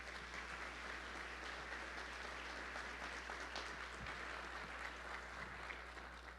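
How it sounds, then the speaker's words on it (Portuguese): Steady applause from a large audience at an industry-day event honoring guests, a dense even wash of clapping held throughout without a break, faint and distant in the room. "Uma salva de palmas, por favor."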